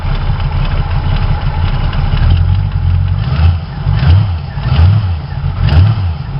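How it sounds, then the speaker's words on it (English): A motor-driven pump runs steadily near the listener, its low hum swelling into regular rhythmic pulses roughly every second as it pushes fluid, loud and continuous. "You can see the pulsing of the motor. every time the pump pushes fluid"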